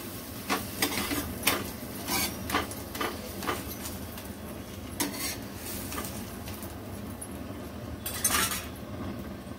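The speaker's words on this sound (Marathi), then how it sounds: "आता परत पलटून घ्यायचं असं." An egg paratha is flipped and pressed in a pan, giving a series of close metallic clinks and scrapes of a utensil against the pan in an irregular rhythm over a low hum, with no talking.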